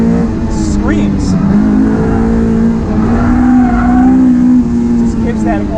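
Honda S2000 with dual throttle bodies on a race track, its naturally aspirated engine droning loud and steady at high revs from inside the cabin, pitch rising and holding, with someone talking over it.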